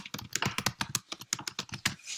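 A password typed on a computer keyboard: a quick run of crisp, close keystrokes in an irregular rhythm, roughly a dozen clicks, with no talking over them.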